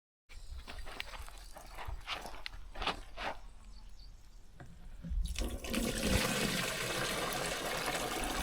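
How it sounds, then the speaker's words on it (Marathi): Water drawn from a 200-litre barrel splashes into a sprayer pump tank, with scattered knocks and trickles at first, then a loud, steady gush of pouring water. "आता हा दोन दोनशे लिटरचा आपण बॅरेल आहे ह्यातलंच डायरेक्ट पाणी घ्यायचं पंपात भरायचं"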